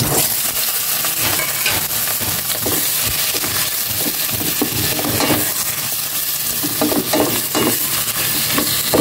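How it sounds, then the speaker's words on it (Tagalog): Pork sautéing in oil in a pan gives a loud, constant sizzle, with repeated scraping and clinking of a spatula stirring throughout. "Gisa ko itong maigi para masarap."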